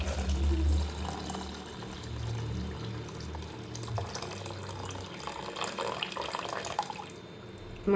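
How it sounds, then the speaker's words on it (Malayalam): Boiled water, about two cups, pours into a pot of ghee rice in a continuous gurgling stream, loud at first and then settling to a softer, steady splash with no talking. "ഇനി ഇതിലേക്ക് ഈ തിളപ്പിച്ച് വെച്ചേക്കുന്ന വെള്ളം ഒഴിച്ചു കൊടുക്കാം"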